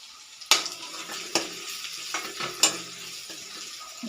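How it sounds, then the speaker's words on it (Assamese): Turmeric frying in a pan for a bhedailota leaf curry is stirred, giving a few sharp utensil scrapes and clinks over a soft, steady sizzle, close and moderately loud. "এনেদৰে লৰাই দিলোঁ।"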